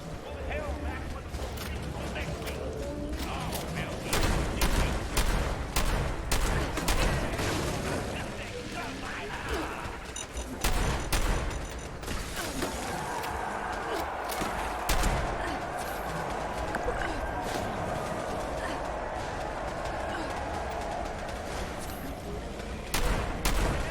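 Automated turrets firing in Fallout 76, bursts of gunfire and heavy blasts crackling through a noisy battle, fairly loud and continuous, with someone talking over parts of it.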